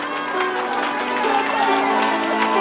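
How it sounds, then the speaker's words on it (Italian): Concert crowd at a Nomadi show in Mamoiada, Sardinia, sustained dense applause and cheering with scattered shouts, loud and continuous throughout, with some voices mixed into the roar. "E quindi un applauso particolare a Beppe Carletti"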